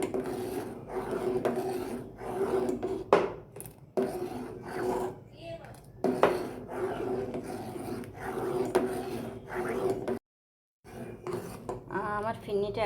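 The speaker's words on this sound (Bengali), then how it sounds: "এখন এটা অনবরত নাড়তে হবে, একদম মিশে যাবে আপনার দুধের সাথে।" Firni is stirred continuously in a pot of milk, with a spoon rasping and scraping against the pot bottom in repeated strokes. The stirring breaks off briefly in a short silence near the end.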